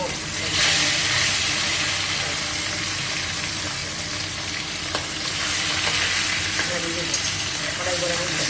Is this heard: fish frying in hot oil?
yes